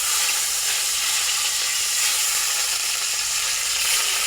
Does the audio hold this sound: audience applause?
no